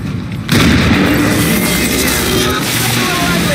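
An explosion goes off in the XCOM 2 video game, a sudden loud boom that breaks into a sustained roaring, crackling blast lasting several seconds after a quieter start.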